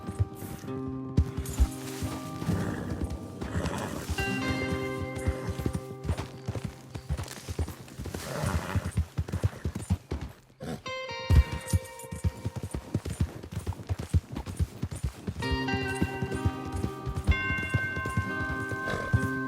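Steady clip-clop of horse hooves in Red Dead Redemption 2 over a dense, continuous game soundscape with music-like tones, running the whole time without speech.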